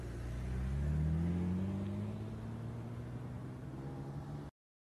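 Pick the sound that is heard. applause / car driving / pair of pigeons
car driving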